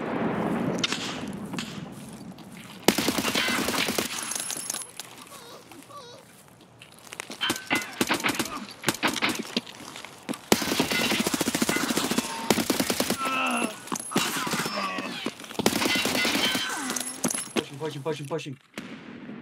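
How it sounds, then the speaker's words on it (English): Repeated gunfire bursts in the shooter game Escape From Tarkov, SKS rifle among them: rapid cracking shots in clusters, loud and close, with players talking excitedly over and between the volleys. "I'm getting shot by someone else."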